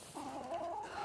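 Chickens at a backyard coop in wet, rainy weather give a short, soft clucking call, faint and close, with nothing else over it.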